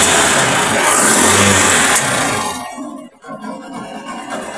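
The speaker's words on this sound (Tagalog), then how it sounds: "Subukan natin paandarin kung titino na mga kaibigan ang andar." A Yamaha YTX motorcycle engine with a stalling fault, running loud and revving hard in the first two seconds, then dropping to a rougher, quieter idle that dips briefly before carrying on.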